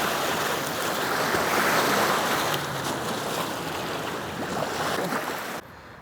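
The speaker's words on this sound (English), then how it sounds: "The waves is getting all over me." Ocean waves washing onto a shore in a continuous, loud rush of surf mixed with wind buffeting a Hollyland Lark A1 wireless mic with noise cancellation off, before dropping abruptly quieter near the end.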